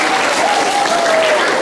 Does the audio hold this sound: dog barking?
no